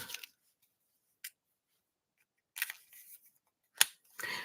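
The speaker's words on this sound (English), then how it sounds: "I'll just use my scissors." Scissors snip through a paper postcard in a few short, crisp cuts spread across a quiet stretch, with brief isolated rustles between them.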